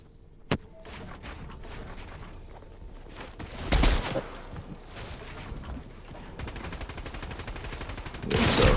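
A sniper rifle fires in a video game: a single sharp crack rings out near the start, followed later by louder bursts of gunfire amid background game noise and faint footsteps.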